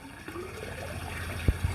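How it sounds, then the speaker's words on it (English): Water trickles and gurgles as a siphon hose fills while held upside down in a barrel, a steady close liquid wash broken by a couple of soft thuds near the end. "we're going to go ahead and put it down, upside down, into this barrel and let it start to fill up with water"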